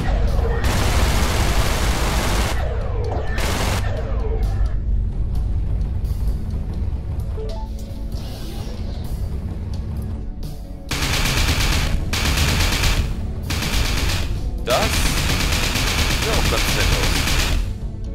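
Gauss cannon fire from a spaceship in the space combat game Everspace, heavy rapid bursts of shots in loud, sustained salvos broken by a quieter lull, then resuming with booming impacts.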